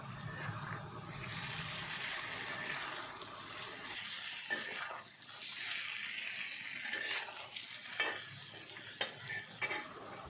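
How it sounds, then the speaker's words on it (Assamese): Taro stolons frying in a pan with salt and turmeric hiss and sizzle faintly while a utensil stirs and scrapes, a few sharp clinks standing out near the end. "কচুলতিখিনি এতিয়া ভাজি ল'ম।"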